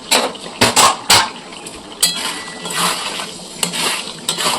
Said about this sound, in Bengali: ওই তেলের মধ্যেই আমি চিকেনগুলোকে তৈরি করে নিচ্ছি।